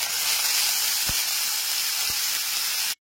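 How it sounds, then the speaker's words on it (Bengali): Ginger, green chili and tomato paste sizzle steadily in hot oil, a loud continuous frying hiss close by, with a couple of faint soft knocks, then it stops abruptly. "এরপর এর মধ্যে দিয়ে দিচ্ছি আদা, কাঁচা লঙ্কা, টমেটোর"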